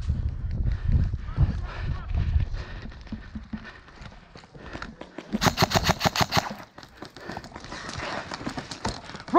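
Airsoft guns fire in rapid clattering bursts inside a mall during a skirmish, with people shouting commands over the shooting and echoing footsteps throughout.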